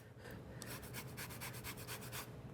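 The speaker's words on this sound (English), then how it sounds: "I'll just add an entire lemon's zest" A whole lemon being zested on a grater, a quick run of faint, dry scraping strokes in a steady rhythm, close by and alone.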